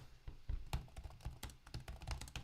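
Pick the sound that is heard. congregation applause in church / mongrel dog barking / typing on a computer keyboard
typing on a computer keyboard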